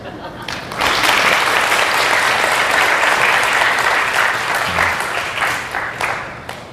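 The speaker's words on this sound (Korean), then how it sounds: "물 한 잔 마실 때마다 박수를 치기로 연습을 한번 하겠습니다." An audience at a lecture hall talk breaks into clapping after a brief quiet start, a dense, loud burst of many hands that holds steady and tapers slightly toward the end.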